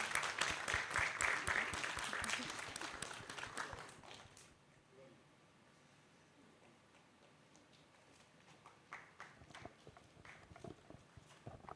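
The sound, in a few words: audience applause at a music festival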